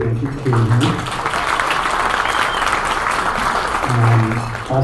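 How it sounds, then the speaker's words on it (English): An audience at a luncheon presentation bursts into loud, continuous applause that fills the room for a few seconds, with a speaker's voice heard just before it and again as it fades. "maybe we can hold applause until I announce all of our board members"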